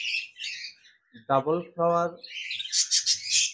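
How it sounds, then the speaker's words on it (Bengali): A pair of large, brightly coloured Japanese budgerigars in a breeding cage give bursts of shrill chirping and squawking, first at the start and again at the end, around a brief stretch of someone talking. "একজোড়া জাপানিজ বাজরিগার পাখি রয়েছে"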